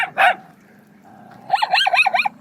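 Street dogs barking outdoors in a Turkish neighborhood near a rubbish dump: one short bark burst, a pause of low background noise, then a quick run of four or five close, loud barks.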